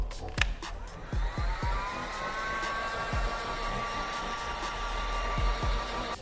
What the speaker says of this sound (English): take a heat gun or a hair dryer and heat this up